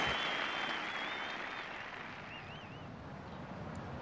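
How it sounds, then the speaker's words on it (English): Spectators at the 1988 Open Championship at Royal Lytham & St Annes applaud a golfer, giving a broad outdoor wash of clapping with a few faint whistles that slowly thins out. "The great man gets, as usual, rapturous applause"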